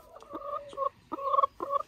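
Chicken clucking close by in a short series of three or four bursts, each a quick nasal call with gaps between.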